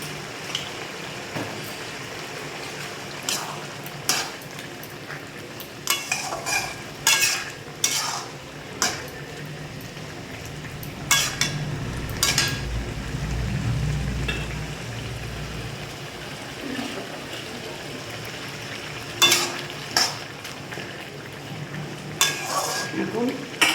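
A spoon stirs fried catla fish into a bottle gourd curry in a pan, with repeated sharp scrapes and clinks against the metal over a low, steady simmer.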